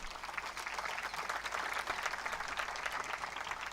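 A university convocation audience breaks into steady applause, a dense, even wash of clapping that holds at moderate volume for several seconds without talk.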